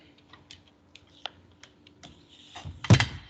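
Computer clicking while a PC opens software, sounding as a few faint, sparse clicks and taps spread across a quiet room, ending in a louder cluster of clatter.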